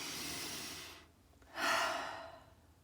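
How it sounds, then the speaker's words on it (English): A single deep breath taken slowly in and then let out in a long, audible exhale, close and quiet with no talking. "The way to do that is to take some really deep breaths."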